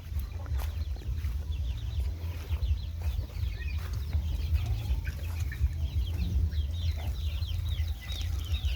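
Chickens cluck in a rural Thai farmyard, a scatter of short repeated calls from several birds at moderate distance over a steady low rumble of outdoor background noise, with no talking.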